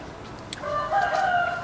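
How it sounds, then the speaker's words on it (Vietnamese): A rooster in a home garden gives a single short crow, fairly close and clear against a quiet background. "Gà."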